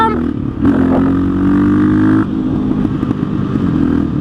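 A KTM 660 SMC single-cylinder supermoto engine revs hard for a wheelie attempt, a loud rising snarl held for over a second before the throttle snaps shut and it drops back to a rough, lumpy idle.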